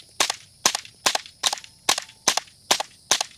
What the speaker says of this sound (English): I'm gonna have to see wherever the first shot hits